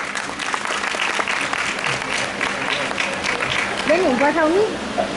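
An audience at a seniors' forum meeting claps steadily for several seconds at an even, moderate level, and a voice briefly rises over the applause near the end.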